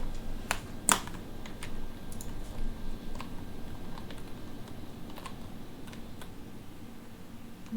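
Quick bursts of keystrokes on a computer keyboard, close and crisp, with irregular clicks and one sharper tap early, continuing at a steady pace with no voices.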